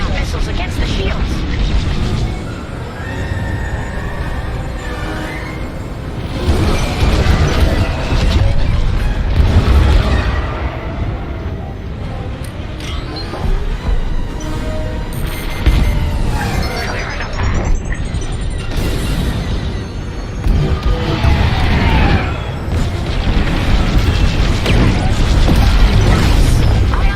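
Missiles exploding in Star Wars Squadrons story mode, deep booms and crashing blasts rolling through continuous space-combat noise, loud and close, mixed with radio chatter.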